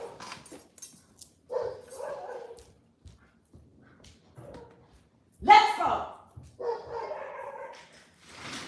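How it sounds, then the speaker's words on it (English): A dog barks in short bursts and whimpers indoors, with a person speaking briefly between the louder yelps. "my dog is acting up. Let me get the dog because he's about to get into a fight."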